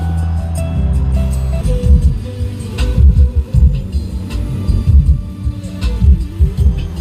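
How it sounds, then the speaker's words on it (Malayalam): A Minda under-seat active 10-inch subwoofer thumps inside a Kia Seltos, deep booming bass pulses and rumbling low notes filling the cabin in a loud, rhythmic pattern. "നമ്മുടെ വണ്ടിയിൽ അകത്ത് നല്ല എഫക്റ്റ് നമുക്ക് കേൾക്കാൻ പറ്റുന്ന ഒരു സബ് വൂഫറാണ്."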